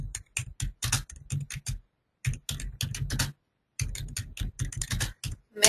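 Bursts of rapid clicking on a computer keyboard, typed in quick runs separated by short pauses, close and clear with no voices.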